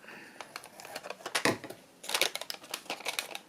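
Paper being trimmed for an envelope card gives a quick series of sharp snips and clicks in two close bursts, dry and near.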